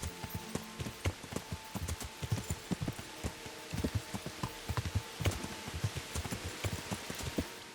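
Horse hooves clatter in a steady, rapid clip-clop gallop inside a video game, loud and close with no talking over them.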